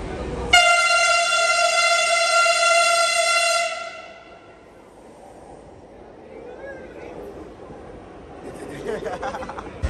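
A Delhi Metro train arriving at a station near New Delhi railway station sounds a loud, steady, multi-tone horn for about three seconds, followed by quieter station rumble and distant noise.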